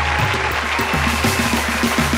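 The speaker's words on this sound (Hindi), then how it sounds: "आपकी भरपूर तालियों में प्लीज वेलकम खैबर पख्तूनख्वा से परवेज सिद्दीकी।" Audience applause on the Pakistani TV show Khush Raho Pakistan fills the scene, a steady wash of clapping over a thumping music bed, continuous and fairly loud.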